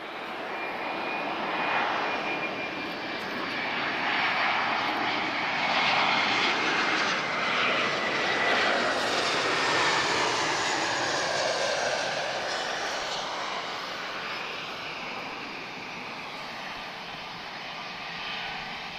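An airliner with CFM56 engines roars past at Lisbon Airport, a broad sustained jet rumble that swells and holds, then slowly fades as it moves away, with no talking over it.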